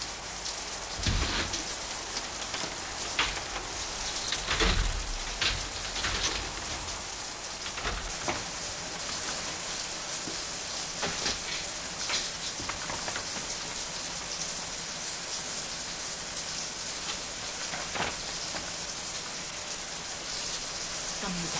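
Steady, dense rainfall with constant hiss of drops and occasional louder splashes.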